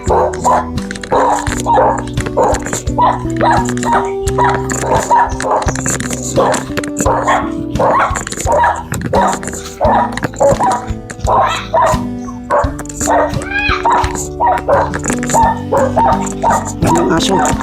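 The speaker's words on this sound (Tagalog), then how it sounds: "Oh, daming aso." A pack of dogs barks and yips continuously, many voices overlapping close by, with people speaking underneath.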